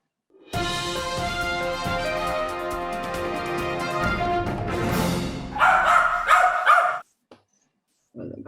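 A dog growls and then lets out a few sharp barks, close by, with nobody talking over it.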